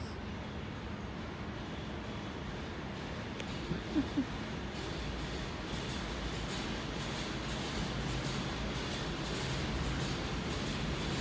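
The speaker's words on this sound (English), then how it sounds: "it's the train going express" A distant express train rumbles past steadily at night with a brief high-pitched screech partway through, under constant broadband noise.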